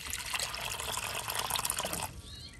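Clear water poured into a tub holding medaka rice fish, a steady close splashing stream that runs for about two seconds and then stops, leaving faint ripples.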